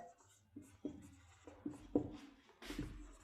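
Chalk or pen strokes on a board during a functional analysis lecture come as short scratchy bursts in an irregular rhythm, faint and close, with no speech over them.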